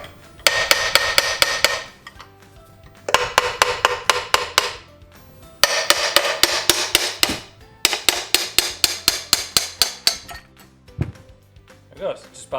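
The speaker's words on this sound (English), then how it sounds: "Then you're just going to take a hammer." Metal hammer blows ring out as a 6.0 Powerstroke VGT turbo housing is knocked apart, four rapid bursts of sharp clinking strikes separated by short pauses, loud and close.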